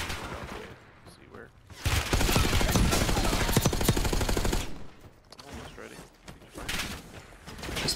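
Sustained automatic gunfire in Call of Duty Black Ops 6 rattles loud and close in a long burst, with quieter stretches and scattered shots before and after.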